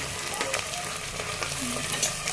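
Tomatoes sizzle and fry in a pan with mustard seeds and dried chillies for a curd curry, with steady crackling and brief stirring scrapes, close and moderately loud, no talk.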